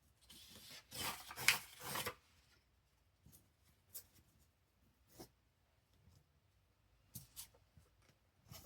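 Material scraped into a book page pocket with paper crafting, a brief rasping scrape near the start followed by scattered soft rubbing and tapping, quiet and close with no talk.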